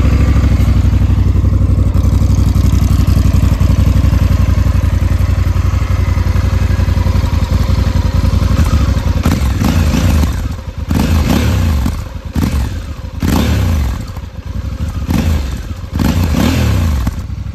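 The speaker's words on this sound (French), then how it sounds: "Maintenant je vais vous faire écouter le bruit de la moto les gars." A 2022 Honda Africa Twin 1100 motorcycle with an Arrow exhaust idles steadily and loudly up close, then blips and revs several times in short bursts.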